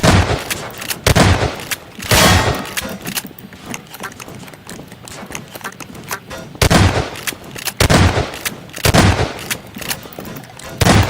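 Video game gunfire crackles in repeated loud bursts, sharp volleys separated by brief lulls and overlapped by gameplay sounds.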